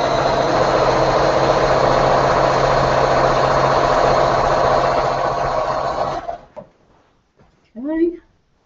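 A sewing machine chain pieces quilt blocks, running in one steady, loud, continuous whir for about six seconds before stopping, followed by a brief clack and a short spoken remark.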